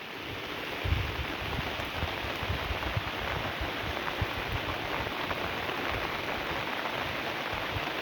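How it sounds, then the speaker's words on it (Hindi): Heavy monsoon rain falling in the Uttarakhand hills, a dense, steady hiss of downpour on surfaces that holds constant and loud throughout. "और वहाँ देखो सामने, वहाँ पर बरसात हो रही है"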